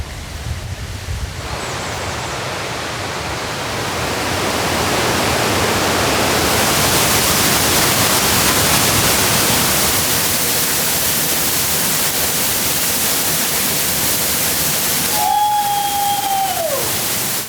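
Ashgill Falls, a waterfall in the countryside, pours with a steady broadband roar that swells louder after a few seconds and holds constant, with a brief whistling tone near the end.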